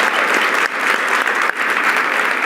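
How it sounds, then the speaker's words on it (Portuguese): A talk-show audience breaks into steady, dense applause, many hands clapping together at close range with a slight dip midway and no voices above it. "Uma salva de palmas."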